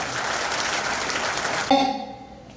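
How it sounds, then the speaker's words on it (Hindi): Students at a World Tourism Day celebration applaud in a dense, steady burst of clapping that swells and then fades, with a brief tone cutting through near the end. "प्लीज बच्चों जोरदार तालियां।"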